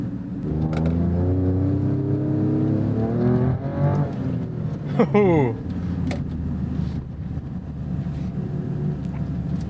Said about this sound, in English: The shifts, when you're not driving it aggressively, they're a bit slow, as you can tell.